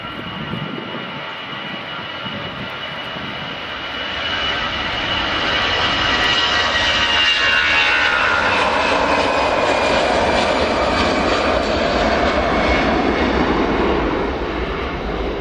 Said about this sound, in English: here comes the EasyJet Airbus A319, and this one was waiting for a little bit